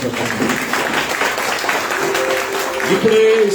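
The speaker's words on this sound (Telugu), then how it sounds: "అందరూ చప్పట్లు కొట్టి ప్రభువుని చెప్పండి." Church congregation clapping steadily together during a Sunday worship service, a dense continuous patter of many hands with voices and a sustained tone rising over it toward the end.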